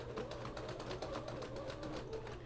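A sewing machine runs steadily, straight-stitching around the border of a quilt, a quiet even mechanical hum and needle patter heard alone.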